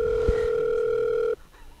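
A telephone dial tone plays steadily and loudly while a call is being placed, holding for over a second before cutting off abruptly into quiet room sound.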